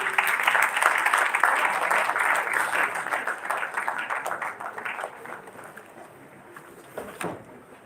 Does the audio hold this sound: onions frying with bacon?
no